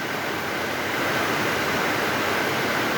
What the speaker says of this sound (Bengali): এই দেখুন আরো জোরে বৃষ্টির পানি ঝরছে।